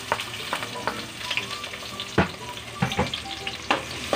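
Garlic, onion and ginger frying in oil, a steady sizzle broken by sharp scraping stir strokes, close and fairly quiet with no talk.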